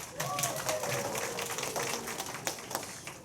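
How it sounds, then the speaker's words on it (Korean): Audience applause at a church worship service, a steady patter of many hands clapping with scattered sharper claps and voices mixed in, moderately loud throughout. "박수 한번 줍시다"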